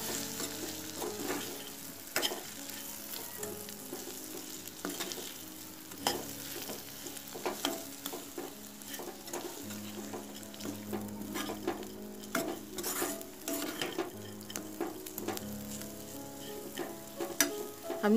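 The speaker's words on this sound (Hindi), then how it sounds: "अब इसे अच्छी तरह से मिला लें।" Sev chutney stirred in a pan over a low flame, a steady sizzle of frying with frequent scraping and clinking strokes of the spoon throughout, close and continuous with no talking.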